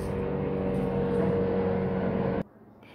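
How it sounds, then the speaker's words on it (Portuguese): An airplane passes overhead as a steady broad roar with droning low tones, holding loud for over two seconds before cutting off sharply into quiet. "aguardei aqui o avião passar"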